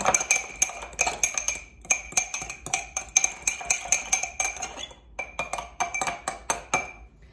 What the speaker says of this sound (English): So I put that in my jar and I'm just going to stir it around and smash it a little.